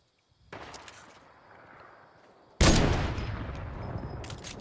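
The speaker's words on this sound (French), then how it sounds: "Ok, ça tire de partout." Dense gunfire from several directions in a video game battle, starting faint and distant, then erupting into a loud continuous barrage of overlapping shots that slowly eases off.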